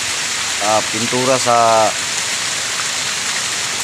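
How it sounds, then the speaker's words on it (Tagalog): Heavy rain pours down in a steady, loud broadband hiss that fills the whole stretch, while someone speaks briefly over it. "dahil yung umulan guys, napakalakas na ulan guys"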